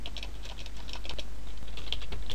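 Rapid, irregular clicking of keys on a computer keyboard, typed in short bursts close by over a quiet background hum, with no voices.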